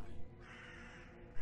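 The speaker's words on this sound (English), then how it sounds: "A crow." A crow caws in the horror video game The Conjuring House, a single short call heard through a steady low ambient drone from the game.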